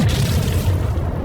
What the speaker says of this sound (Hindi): ये धमाका तो बहुत बड़ा है।